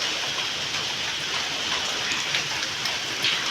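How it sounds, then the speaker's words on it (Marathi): Steady rain falls throughout, a dense hiss of drops with occasional sharper patters, no voices. "अख्खा दिवस नुसता पाऊस पडतो आहे"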